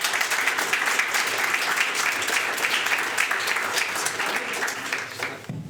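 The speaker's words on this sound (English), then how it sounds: "Let's give them a big round of applause." A live audience at an indie game showcase event applauds steadily with dense, sustained clapping that holds for several seconds before tapering off at the end.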